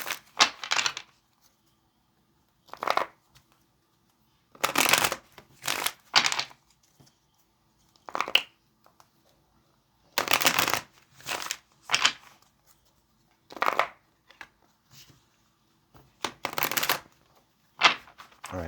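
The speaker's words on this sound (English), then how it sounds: "So let's go ahead and pull some cards here." A deck of tarot cards is shuffled in repeated short, crisp riffling bursts separated by quiet pauses, close and fairly soft.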